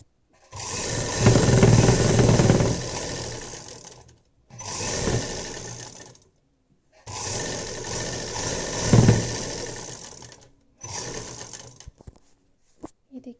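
A sewing machine stitches the sleeves of a baby dress in four bursts of whirring, rattling mechanism, separated by short quiet gaps. The last burst is brief.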